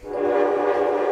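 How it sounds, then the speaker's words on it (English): A train horn sounds as a train pulls in on the tracks at a street event, one short sustained blast that is fairly loud and full-toned, with no voices over it. "Number 7 is coming in on the tracks."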